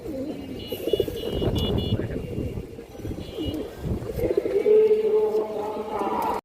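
Pigeons of a colourful fancy breed coo in a loft, low throaty murmurs repeating in uneven bursts at close range over a busy background of rustling and distant noise.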